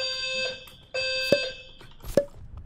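A high-pitched house fire alarm beeps in repeated bursts, with a few sharp knocks in the background and no talking.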